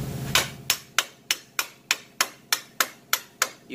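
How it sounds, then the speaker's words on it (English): Steady hammer blows ring out about three times a second, around a dozen sharp metallic strikes in an even rhythm, close and fairly loud. "You can hammer this one down without any problems."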